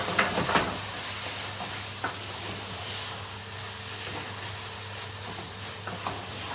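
Red wine vinegar sizzles steadily in a hot pan as it reduces, a constant close hiss with a few faint clinks and taps, no talking over it.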